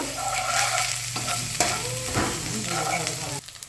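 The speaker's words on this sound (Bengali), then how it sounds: "এই যে এখন এগুলোর মধ্যে এই যে একটু আদা বাটা তারপর একটু রসুন বাটা দিয়ে দিব তারপরে এগুলোকে ভালো করে আমরা একটু নাড়িয়ে নিব" Ginger and garlic paste are stirred and fried in a pan for khichuri, with a steady close sizzle broken by scraping stir strokes and a few knocks, and no talking.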